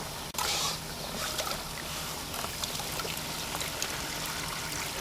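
Water with gravel material sluicing steadily through a Gold Cube gold separator, a continuous close trickling and rushing wash with small splashy bursts, no talking.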